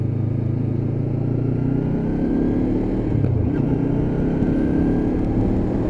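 A Lexmoto LXR 380cc motorcycle is ridden through the gears, its engine holding a steady loud drone with a brief dip and pitch shift partway through, then pulling on again.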